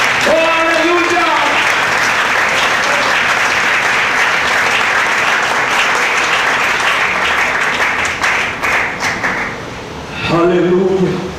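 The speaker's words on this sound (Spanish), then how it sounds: "Denle un aplauso a él, denle un aplauso" Church congregation applauding loudly for several seconds, dense clapping that fades unevenly near the end, with a preacher's voice heard at the start and again as the clapping dies down.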